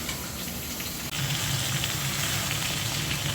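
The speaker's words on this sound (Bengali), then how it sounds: "আমি পেঁয়াজ আর মরিচটা ভেজে নিলাম, এখন পুঁইশাকটা দিয়ে দিচ্ছি।" Malabar spinach dropped into a pan of frying onion and chili, giving a steady, close rain-like sizzle that swells slightly louder partway through.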